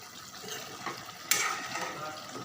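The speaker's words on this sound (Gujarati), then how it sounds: "ચેક કરી લઈએ, એકવાર હલાવી લઈએ" Swaminarayan shakotsav vegetable curry is stirred in a pan, giving a soft sizzle and a wet scraping swirl with a sharper clink of the spoon partway through, close and steady.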